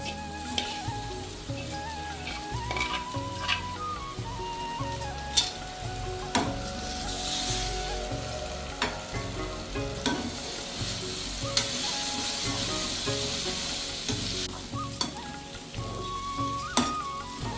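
Breadfruit pieces sizzle steadily in a pan while a spoon scrapes and stirs them, with soft repeated clinks over a continuous close frying hiss.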